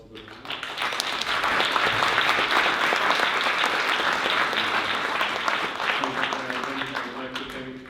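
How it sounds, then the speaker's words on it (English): An audience applauds a discussion panel at a development network livestream event, dense and sustained clapping across the room, with voices faintly audible beneath it near the end. "first I'd like to give a round of applause to the panel."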